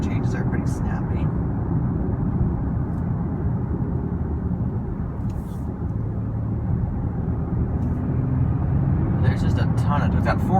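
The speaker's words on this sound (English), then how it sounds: "if you step on it, it just surges forward and it just hums, it just shoves you forward" A 2016 Audi Q5 3.0 TDI diesel pulls hard in sport mode, heard from inside as a steady low engine hum and road roar that holds throughout, with faint voices over it.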